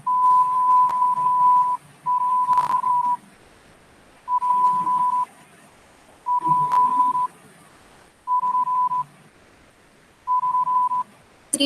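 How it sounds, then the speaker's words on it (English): Morse code beeps sounding alone: six steady electronic tones of the same pitch, evenly spaced with short pauses between them, clear and fairly loud. "Communication is only done through these beep sounds."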